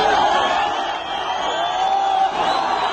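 Large Gazan crowd cheering and whooping at a hostage release, a loud, continuous roar of many voices with shouts rising and falling.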